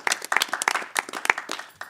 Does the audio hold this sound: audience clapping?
yes